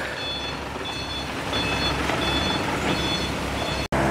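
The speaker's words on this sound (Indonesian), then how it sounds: "Dan mobil satunya pun sudah mengarah mundur dan eskavator sudah siap-siap untuk menaruh sedimen lumpurnya ke mobil dump truck" A dump truck backing up near an excavator dredging mud and rubbish from a river under a bridge: evenly spaced reversing beeps ring out over a constant engine rumble, with a brief dropout near the end.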